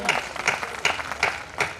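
An audience at a Hindi comic poetry gathering in Petlawad claps in unison, giving about five evenly spaced, rhythmic claps with faint voices underneath.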